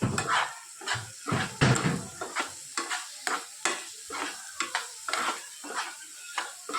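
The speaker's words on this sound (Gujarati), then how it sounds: "થોડુંક સોતે થાય અને નરમ પડે ત્યાં સુધી આપણે એને થવા દઈએ" Turmeric, cumin, garam masala and red chili sizzle in a hot pan while a spoon scrapes and stirs in quick, irregular strokes, close by.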